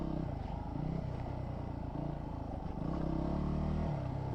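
A motorcycle engine on a dirt bike ridden over jumps, throttle cracked wide open with a continuous rough roar that swells and surges, heard steadily throughout at moderate distance.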